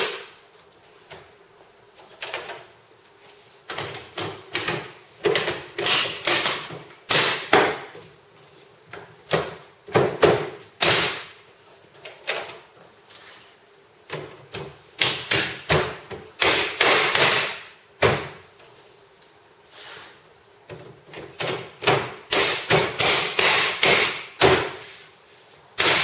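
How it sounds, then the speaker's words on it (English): DIAB deck pedestals click into place as they are pressed down, producing scattered sharp taps and thuds in irregular bursts, close and fairly loud, with no talk. "by simply pressing down they click"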